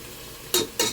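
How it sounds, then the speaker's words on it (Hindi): Two short bursts of sizzling as ginger garlic paste hits hot oil, loud and close against a quiet background. "उसके बाद हम भूनेंगे इसको तेल में।"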